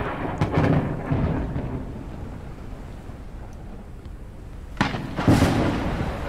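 Thunderstorm in the game Forever Skies: low rumbling thunder with bright cracking bursts near the start and again toward the end, over a steady storm wash, no talk.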